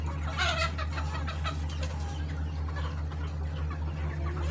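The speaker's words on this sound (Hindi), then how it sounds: "ये मुर्गी देखें" Egyptian hens on a village farm cluck in short repeated bursts over a steady low hum, fairly close, with no talking.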